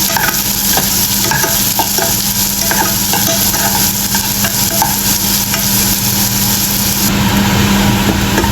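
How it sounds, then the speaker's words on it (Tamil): Steady loud sizzling of onions, chillies, curry leaves and fennel seeds frying in sesame oil, with occasional stirring scrapes throughout. "வெங்காயம் மிளகா கருவேப்பிலை பெருஞ்சீரகம் கொஞ்சம் எல்லாம் போட்டு நல்லெண்ணெய் ஊற்றி தான் தாளிக்கிறேன்"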